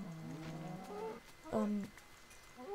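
Cows in the Minecraft video game moo in two drawn-out, fairly faint calls over a quiet background.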